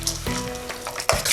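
Chopped cashews and almonds fry in a pan with a continuous bright sizzle, broken by two louder bursts as the nuts are stirred or tossed.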